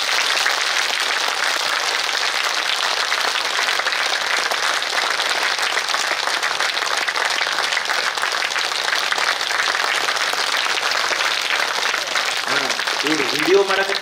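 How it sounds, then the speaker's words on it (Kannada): An audience at a government school Amrut Mahotsav celebration claps loudly and continuously, a dense wash of applause lasting the whole stretch, with a voice emerging near the end. "ಆ ಭಾವಕ್ಕೆ ಒಂದ್ಸರಿ ಪ್ರೇಮದಿಂದ ಜೋರು ಚಪ್ಪಾಳೆ ತಟ್ರಿ"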